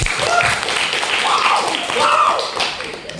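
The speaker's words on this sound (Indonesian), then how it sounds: "Tepuk tangan untuk kasih." Children and an adult in a classroom clapping after a child's poem recital, scattered taps and claps mixed with lively young voices talking and calling out close by.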